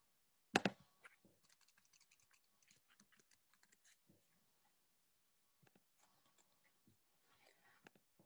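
Arrow keys tapped on a computer keyboard while text is edited in a drawing, giving a loud opening clack and then light, irregular clicks that come in short clusters with pauses between them.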